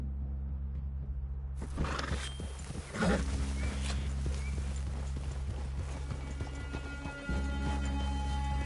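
Horses walk in the video game Red Dead Redemption, hooves clip-clopping in a loose, uneven rhythm under a low game ambience hum, with a few soft rustles and thuds mixed in.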